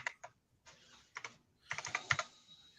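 Uneven clacking keystrokes on an Apple II computer keyboard during logic board repairs, short bursts of a few presses separated by brief pauses, close and fairly quiet with no talking.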